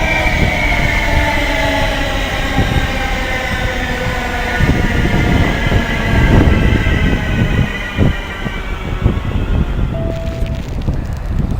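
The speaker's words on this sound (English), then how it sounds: "here comes the 1305 London Midland service from London Euston to Birmingham New Street" A London Midland Class 350 electric train pulls into Birmingham International station, its rumbling wheels and rising motor whine steady and loud throughout, with wind buffeting the microphone and a brief tonal squeal near the end.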